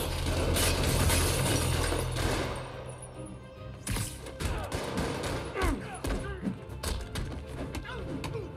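Rapid gunfire in the Spider-Man Remastered video game, a dense fusillade of shots with mechanical clatter over a loud, busy background that eases after a few seconds into scattered sharp cracks.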